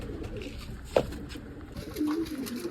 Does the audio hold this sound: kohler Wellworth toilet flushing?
no